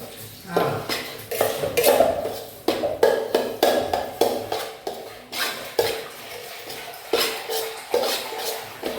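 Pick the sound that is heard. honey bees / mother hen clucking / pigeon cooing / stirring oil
stirring oil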